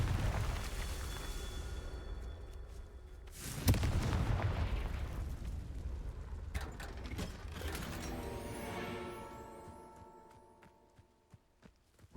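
A Confringo fire spell from Hogwarts Legacy bursts loudly near the start of the fourth second, trailed by crackling, rumbling game effects and mechanical clatter, with a few sharp hits closing the stretch.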